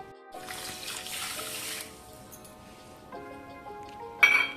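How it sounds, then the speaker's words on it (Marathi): Water runs from a tap into a large bowl of sugar with cardamom powder for gulab jamun syrup, a steady splashing pour through the first half, then quieter, ending in a brief clink. "आता पाणी भरून घेऊया"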